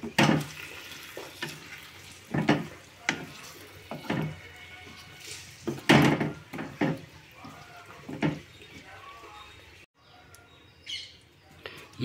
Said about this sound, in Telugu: పేస్ట్ వేసిన తర్వాత మొత్తం శుభ్రం కలిసేటట్టు కలుపుకోవాలండి.